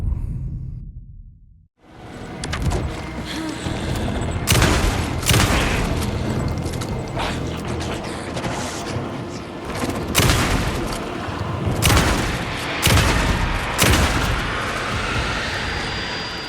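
Repeated gunfire blasts at an enemy in the survival-horror game Alan Wake 2, loud broadband bursts arriving in clusters every second or two over a dense, rumbling game backdrop after a brief quiet opening.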